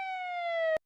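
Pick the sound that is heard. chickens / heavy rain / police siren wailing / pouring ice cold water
police siren wailing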